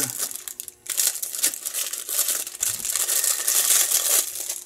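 Plastic packaging around a solder spool crinkles and crumples up close as it is opened, in loud, busy bursts with a brief pause near the start and no talk.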